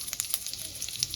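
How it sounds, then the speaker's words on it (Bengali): Whole cumin seeds and asafoetida sizzle in hot oil as a dal tempering, a steady close crackle with bright spitting pops throughout. "আমি ফোড়নে দিয়ে দেব গোটা জিরে, দিয়ে দেব হিং"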